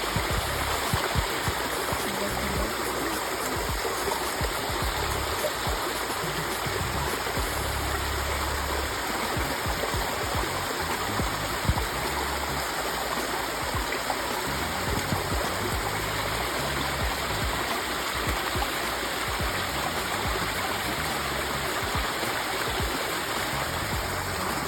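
Water rushes steadily into a well, a loud continuous gush and gurgle that holds for the whole stretch without break, with no voices clearly heard over it.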